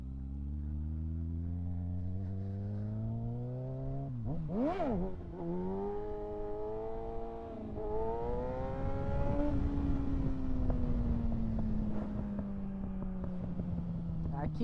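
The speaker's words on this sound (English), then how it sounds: "Let's try some wheelies on it" A purple Kawasaki ZX6R 636 motorcycle revs hard during repeated wheelie attempts, its engine climbing, dropping and climbing again through several throttle bursts close by.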